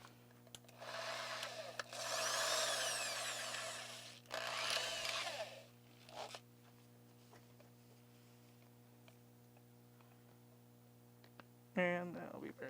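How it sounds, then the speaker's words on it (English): Power drill with a large bit boring into a plastic Rocinante model diorama, a few whining bursts of a few seconds each, close, over a steady electrical hum, with a short whirring spin-up near the end. "let's go ahead and switch to a proper big drill bit"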